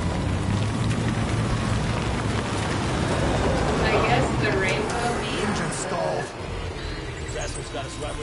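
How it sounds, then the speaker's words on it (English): Steady rain pours down in the video game Death Stranding, a dense, loud, unbroken hiss of drops filling the whole stretch, with a voice speaking over it. "I like the rain."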